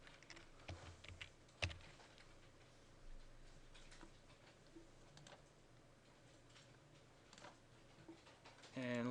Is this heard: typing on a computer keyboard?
yes